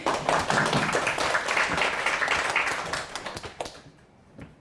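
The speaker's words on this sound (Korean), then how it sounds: "박수로 맞이해주세요" Audience clapping to welcome a presenter at a cloud camp graduation ceremony, a brisk crowd of claps that holds steady, then thins and fades out near the end.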